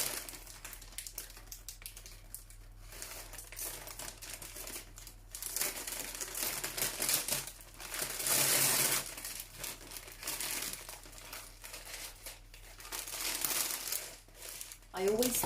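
Scissors snip the stems of fresh flowers while an altar for the goddess Oshun is assembled, giving crisp cuts mixed with crinkling wrapping and rustling stems under ongoing close speech.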